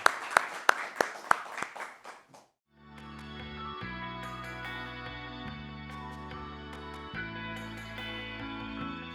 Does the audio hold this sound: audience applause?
yes